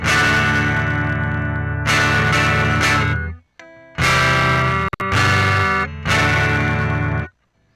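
Electric guitar played through a NUX Mighty Plug headphone amp with an AGL DB810 bass cabinet impulse response and no reverb, giving loud sustained chords in several strummed bursts separated by short gaps.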